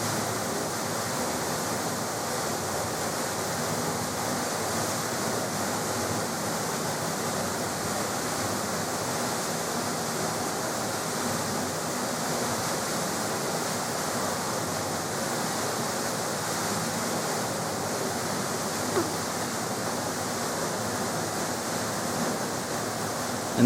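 Steady, dense rush of falling water from Zapata Falls, a waterfall mostly encased in winter ice, heard close and continuous with no voices over it.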